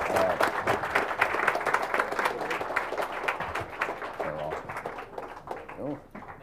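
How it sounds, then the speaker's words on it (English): A round of applause from the audience at a Bitcoin academy conference session, steady dense clapping that thins toward the end, with some voices murmuring underneath. "Let's give everybody a round of applause."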